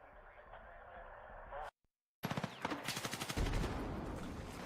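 Shotgun fire in the Battlefield 6 beta, a burst of loud, sharp blasts after a brief silent gap, several rapid reports in a row over the game's background noise.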